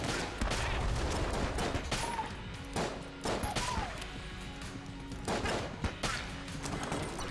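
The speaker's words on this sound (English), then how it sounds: "Smiley's revolver is a really good gun." Smiley's revolver fires in Enter the Gungeon as repeated sharp shots in rapid clusters, close and fairly loud, mixed with crashing game effects and a couple of short tonal chirps.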